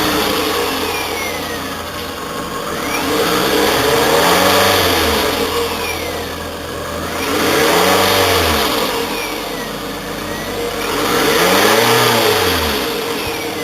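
A 2008 Toyota Camry with about 159,000 miles runs steadily, its engine revving up three times in smooth, rising-and-falling swells over a continuous idle, close and fairly loud with no one talking.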